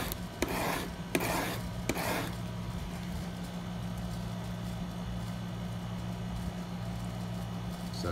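A steel chisel is sharpened by hand to flatten grinding marks, and three quick rasping strokes scrape up close in the first two seconds before a quiet steady background hum is left.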